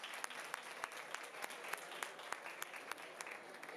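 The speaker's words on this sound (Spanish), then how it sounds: "Un fuerte aplauso" Faint applause from an awards ceremony crowd, steady clapping with a few sharper claps standing out, continuing throughout.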